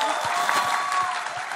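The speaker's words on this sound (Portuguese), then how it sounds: "palmas para Luciana Daulísio" A brief burst of audience applause at a live magic show, a crowd clapping together at moderate loudness with a faint tone running underneath.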